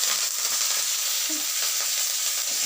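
Curry leaves, dried red chili and mustard seeds crackle and sizzle in hot oil for a yogurt-eggplant dish, a steady dense hiss with small pops throughout, close and fairly loud with no talking.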